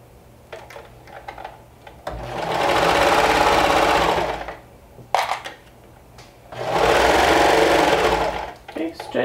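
A sewing machine stitches down knit neckline binding in two sustained runs of steady, close whirring, separated by a pause filled with small handling noises.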